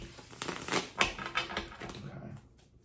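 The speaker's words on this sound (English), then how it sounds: "I just want to make sure they're really shuffled well." Tarot animal cards are shuffled by hand in a brief burst of soft, papery riffling clicks that fade out after a couple of seconds.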